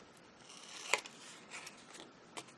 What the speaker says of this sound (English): I'm just going to snip these corners here